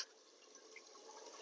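Water poured out, a faint continuous trickle and splash lasting about a second and a half with no talk over it.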